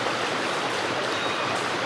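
Water rushes over rocks at a waterfall near a Konkan hillside temple, a steady, dense, close roar of flowing stream water with no voices.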